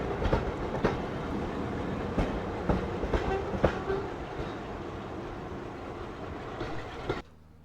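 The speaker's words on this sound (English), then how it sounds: "This is a sound I miss. Just the clunking of the wheels," Heritage steam railway coaches coast along the track, wheels clunking in a steady run of loud rhythmic clicks and thumps over a continuous rumble, with no talk, until the sound cuts off near the end.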